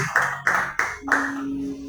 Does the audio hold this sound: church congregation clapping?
yes